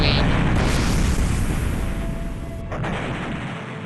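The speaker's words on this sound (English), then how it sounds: "a explosion happens, and we go to the next floor" A loud, rumbling explosion in the Shining Force 3 video game, a broad booming roar that fills the whole stretch and slowly fades, with a brief cut near the end.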